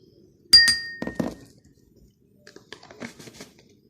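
A spoon clinks against a glass bowl while scooping dry milk powder, two sharp bright taps close up followed by softer scraping clinks and light rustles.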